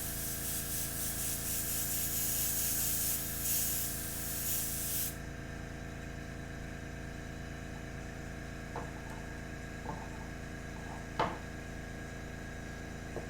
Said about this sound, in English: I think we'll just keep spraying at it